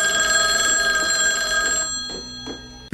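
An old-style telephone bell rings continuously and loudly in a scene from the 1989 horror film Pet Sematary, its bright metallic trill steady throughout before cutting off at the end.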